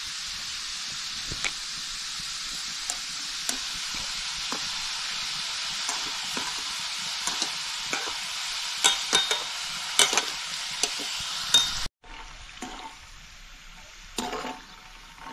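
Sweet sev deep-frying in oil over a wood-fired chulha on low flame, a continuous hissing bubble broken by scattered sharp pops and clinks, then quieting abruptly near the end before a few last stirring sounds.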